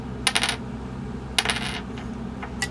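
A small metal sewing machine bobbin drops onto a hard surface and bounces with bright tinkling clinks, then settles with a few faint rattles.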